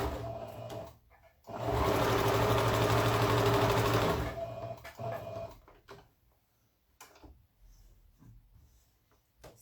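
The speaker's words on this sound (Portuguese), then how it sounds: "Aqui também é uma costura de segurança" Up close, a sewing machine runs a steady burst of about two and a half seconds, stitching a safety seam on a shoulder bag. Quiet handling clicks and rustles come before and after.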